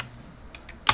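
Quick keystrokes on a computer keyboard entering a network configuration command, a few soft taps followed by two sharper, louder clicks at the end, close by.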